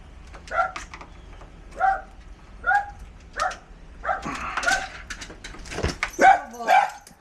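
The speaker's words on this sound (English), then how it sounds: "we got the vicious guard dog." A guard dog barks in a run of sharp, separate yips at a steady rhythm, close and fairly loud, with a busier stretch of mixed barking and whimpering toward the end.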